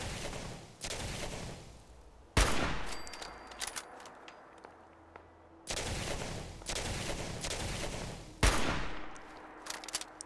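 Gunfire in the video game Fallout 4, a few loud, sharp shots spaced several seconds apart, each with a ringing decay, over quiet game ambience.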